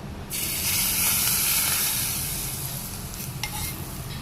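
A sudden loud sizzle bursts out as a tempering of asafoetida and red chilli hits hot oil for a chutney, then a steady hiss carries on, easing slightly toward the end.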